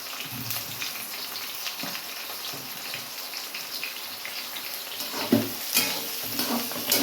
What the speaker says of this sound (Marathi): आता आपण ह्याच्यामध्ये कांदा टाकूया कांदा पण आपल्याला आहे ना गोल्डन ब्राऊन फ्राय होईपर्यंत परतायचा आहे